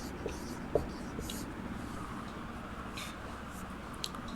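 Pen writing an answer by hand on paper in a quiet room, faint continuous scratching strokes with a couple of small taps, low and close.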